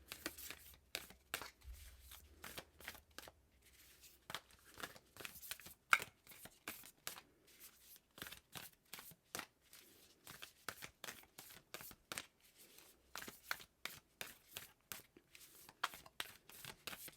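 Oracle and tarot cards being shuffled, a steady run of quick papery riffles and snaps, close and fairly quiet, with no talk over them.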